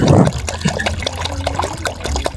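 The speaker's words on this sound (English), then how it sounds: "So let's pour water into our basin again" Water poured into a basin for peeling potatoes, a loud splashing gush at first that settles into a steady trickle with small drips and clinks.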